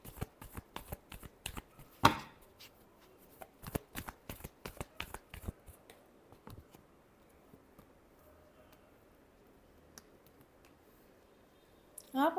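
Tarot cards shuffled in quick crisp bursts of snapping clicks, close and fairly loud, thinning out to quieter scattered flicks before a final flurry.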